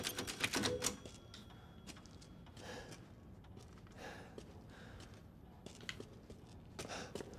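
A typewriter clatters in Resident Evil Village as the game is saved, a burst of quick keystrokes at the start followed by sparser taps and clicks over a dim, spooky background.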